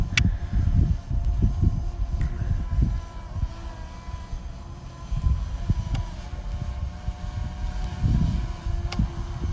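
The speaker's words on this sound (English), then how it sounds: "for as windy as it is" Gusty wind buffets the microphone in low, uneven rumbles during a JJRC X12 drone flight at Portage Park, with a faint high whine running steadily underneath.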